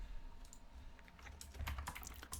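Code is typed on a computer keyboard in quick, uneven bursts of light key clicks. The clicking grows denser and louder toward the end, close and alone with no talk.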